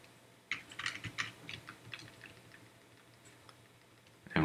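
Keys on a computer keyboard are tapped quietly in a quick run of clicks, then slower single presses, with a louder click at the end.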